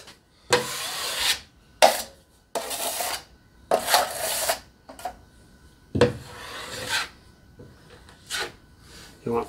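A drywall knife spreads joint compound over a wall patch in a series of rhythmic scraping swipes, each a wet rasping stroke with short pauses between, close and clear.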